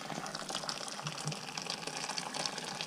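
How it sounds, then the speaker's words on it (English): Water pours steadily into a pot for cooking brown rice, a close gushing splash with a bright, bubbling fill sound and no voices. "for my brown rice, I like to add lots and lots and lots of water"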